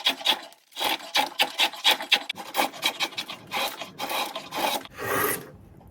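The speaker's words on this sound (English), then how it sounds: "Cutting this way on the back of the spoon is going to lead to tearing, but I'm just roughing it" A knife roughs out the back of a wooden cooking spoon in quick repeated scraping strokes, each a short rasping cut, close up and steady in rhythm with no voices.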